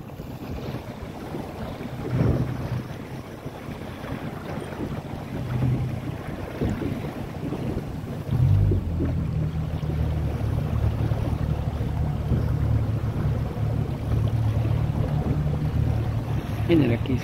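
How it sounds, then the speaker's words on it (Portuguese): A sailboat racing in a regatta moves under steady wind, with continuous broadband wind and water rush that grows louder partway through, and faint voices in the background. "Manel, trabalha o barco"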